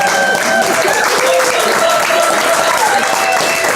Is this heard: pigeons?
no